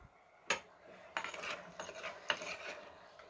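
A spoon stirs chicken gravy in a clay pot, making faint, close scraping and rubbing strokes in several separate bursts with a sharper knock at the start and quiet between, without any voices.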